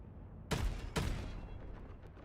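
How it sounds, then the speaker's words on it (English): Ship cannons in the space game StarWrath fire two sharp, booming shots about half a second apart, each trailing off into a rumbling echo over a low ambient hum. "Or we can test the cannons anyway."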